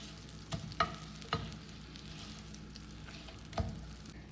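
Butter melting and sizzling in a pan, a quiet steady hiss broken by a few soft clicks and spoon scrapes, heard up close with no talking.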